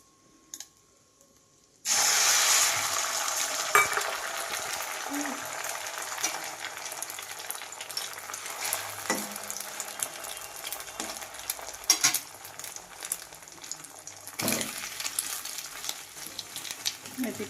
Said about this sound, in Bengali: এবার আমি একটু তেল দিয়ে ডিমটা আবার দিয়ে দেব।